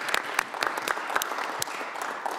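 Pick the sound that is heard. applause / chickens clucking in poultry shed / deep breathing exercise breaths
applause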